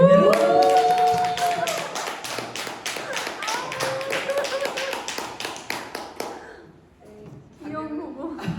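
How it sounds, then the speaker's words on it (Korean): An audience at a business presentation in Jeju claps warmly to welcome the next speaker, a dense sustained round of applause that thins out near the end while a host speaks over it. "뜨거운 박수로 맞이해 주세요."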